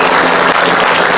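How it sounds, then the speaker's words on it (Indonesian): Loud, dense studio audience applause on an Indonesian talk show, a full wash of clapping filling the whole second-long burst without pause. "Tepuk tangan untuk Jarwo Kuat."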